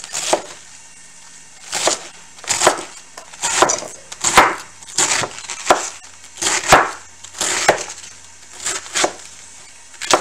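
A knife chops through cabbage on a cutting board in about a dozen sharp, evenly spaced strokes, each a crisp woody knock close by, with no talking.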